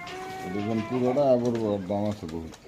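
Pigeons at a pigeon market coo in low, rolling phrases that are close and fairly loud, mixed with nearby talk.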